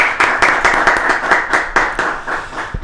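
Studio audience clapping to welcome a guest onto a Spanish-language talk show, a small group giving rhythmic, close hand claps, fairly loud and steady.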